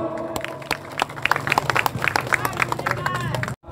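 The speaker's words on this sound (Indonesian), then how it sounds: "Mari kita aplaus" Crowd applause at a street protest rally, a dense wash of many hands clapping with scattered cheers and babble over a low background hum, steady throughout before cutting off abruptly near the end.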